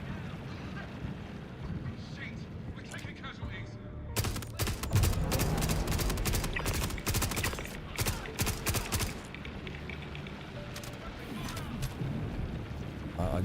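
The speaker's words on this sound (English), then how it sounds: "I'm using an SMG to do this." SMG gunfire in Star Citizen rattles out in dense, loud bursts of rapid shots over several seconds, with a voice talking underneath and game ambience between the volleys.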